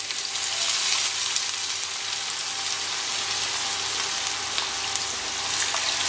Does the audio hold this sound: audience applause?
no